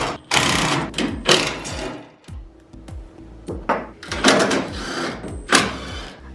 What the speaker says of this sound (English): Now I'm using a T40 to take off these 2 bolts.